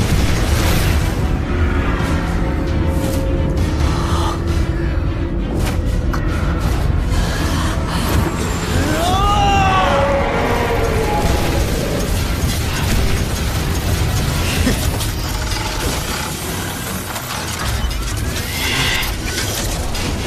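A flame-spraying soul-guided cannon fires in an animated fantasy battle, sending out dense, roaring blasts that run continuously for about twenty seconds. A sweeping whoosh rises through the middle, and no voices are heard.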